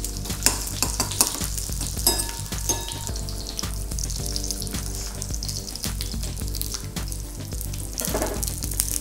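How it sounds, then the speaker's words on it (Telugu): Capsicum frying with onions in a pan sizzles steadily, broken by repeated stirring scrapes and clatters, with no voices over it. "దాన్ని ప్యాన్ మీద పెట్టేసుకుందాం. అటు ఇటు అన్ని వైపులా దాన్ని కొంచెం కుక్ చేసుకుందాం."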